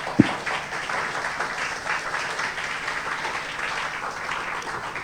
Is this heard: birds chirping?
no